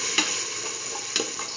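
Chayote and green peas sizzle steadily in a frying pan, a continuous hiss broken by two or three brief scraping stirs, close and alone with no voices.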